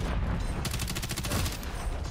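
Rapid automatic gunfire in Call of Duty: Modern Warfare III rattles in one sustained burst of evenly spaced shots, loud and close, over a constant rumble of game noise.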